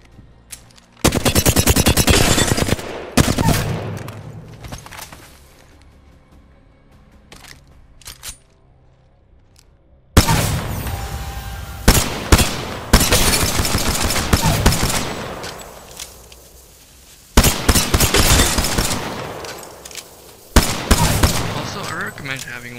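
Rapid automatic gunfire from the video game Apex Legends comes in loud sustained bursts separated by short pauses, with quieter gaps of background game sound between volleys.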